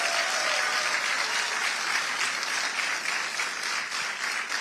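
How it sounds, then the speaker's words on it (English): Loud, dense applause from a crowd at a New York political rally for Congressman Richie Torres, continuous clapping that stays strong throughout with no voices on top. "Let's give him another round of applause."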